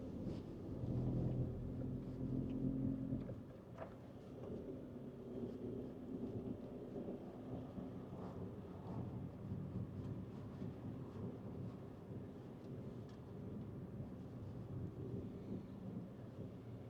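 The number 10 bus, the last of the evening, passes on a road heading towards Morrison's. A deep engine rumble is loudest for the first three seconds, then settles into a steady low drone.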